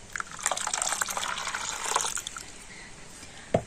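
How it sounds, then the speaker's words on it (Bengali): Water splashes as it is poured into a rinsed mixer jar, a short bubbling pour of about two seconds that tapers into a trickle and ends with a single drip or light clink. "মিক্সিটা ধুয়ে আমি একটু জলও দিয়ে দিচ্ছি"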